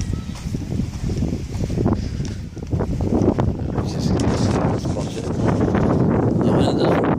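Strong wind buffets a microphone on a beach among dunes, a steady, loud rumbling roar that continues throughout and rises slightly toward the end.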